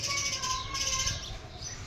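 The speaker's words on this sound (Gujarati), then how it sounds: "આ ચકલો ક્યારનો નીચે આવે છે, જાય છે ઘરે." Sparrow chirping outdoors in hot afternoon weather, a few thin high chirps and short calls that are fairly faint over a steady low background hum.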